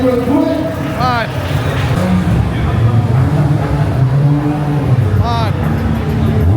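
Nissan GT-R Skyline engine revving at an outdoor car meet, with rising and falling rev sweeps among nearby voices, crowd chatter and talk throughout.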